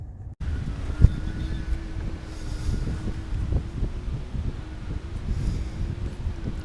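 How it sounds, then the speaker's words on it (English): Strong wind of about 18 mph with 30 mph gusts roars steadily across the microphone at a lake, a constant low rumbling buffet with gusty surges and no voices. "the wind is really blowing now, 18 miles per hour with like 30 mile per hour gusts"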